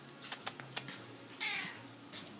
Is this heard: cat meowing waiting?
yes